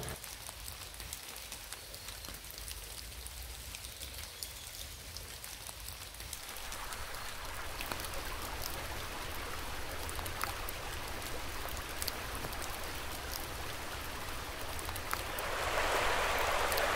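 Steady rain falls along a hiking trail in Scotland, soft and even at first, then louder and denser after a few seconds, with a hiss that builds toward the end.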